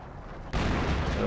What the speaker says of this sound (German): das hat die Artillerie jetzt eingeschlagen